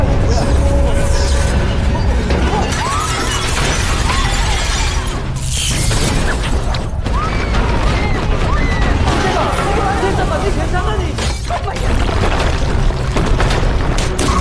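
A loud, dense earthquake rumble from the film Pandora, continuous roaring and crashing debris filling the whole stretch, with shattering impacts and babble of panicked voices underneath.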